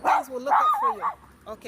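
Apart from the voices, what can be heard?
dog barking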